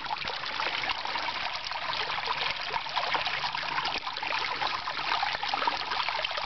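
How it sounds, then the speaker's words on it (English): Water trickles and streams through a small collapsing dam, a steady close dribbling flow with faint splashes, moderately loud, with no voices. "It's breaking now. And the dam is starting to collapse into my city over there."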